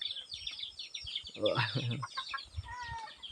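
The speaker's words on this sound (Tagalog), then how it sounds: "Puli, ang dami nilang alagang manok" Soft clucking from chickens, faint and somewhat distant, with a short burst of low chatter in the middle.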